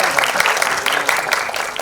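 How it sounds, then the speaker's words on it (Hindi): Audience applause at a music album launch event, steady dense clapping from a crowd filling the whole short stretch at even loudness. "प्लीज इन सबको जोर से तालियों से नवाजिए"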